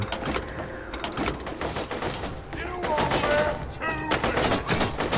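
Shotgun fire in the video game Borderlands 2, a dense run of sharp blasts and rattling gunfire that keeps up across the whole stretch, layered with game music and effects.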